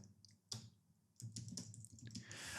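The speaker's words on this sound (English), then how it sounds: "So I'm going to go and click here and go and type in my email" Someone types an email address on a computer keyboard, producing a few scattered key clicks and taps that are faint and irregular, with short bursts and pauses between them, and nothing else audible.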